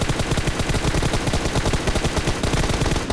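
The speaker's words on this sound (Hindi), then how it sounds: "अब इतने में यार एक सामने से बंदा M4 चला रहा था बंदा, और जो कि हमारे काफ़ी क्लोज था।" Rapid automatic M4 rifle fire in PUBG Mobile rattles close and loud in a steady, unbroken stream of shots for the whole stretch.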